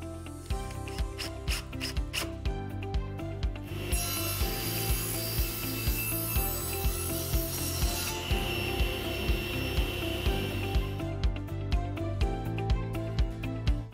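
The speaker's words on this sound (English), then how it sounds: "and we'll attach it with a couple of screws" A miter gauge fence being screwed into place on woodworking equipment, giving regular ratcheting clicks and scraping turns in a steady rhythm, close and clear, with no talking.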